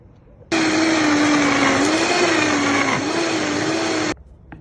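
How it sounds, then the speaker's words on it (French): A blender mixes tomato gazpacho with sherry vinegar and fleur de sel, giving one loud, steady whirring roar for a few seconds before cutting off abruptly. "Alors maintenant on va mixer."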